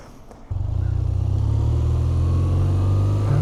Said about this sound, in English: the big old air oil cooled Boxer Twin motor